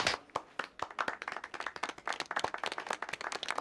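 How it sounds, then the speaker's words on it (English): Film audience applause from the comedy Kung Pow, extended in editing: a thin patter of individual claps from a small crowd, quick and uneven, rather quiet and heard alone. "audibly you can hear in the cut where they extended the applause out"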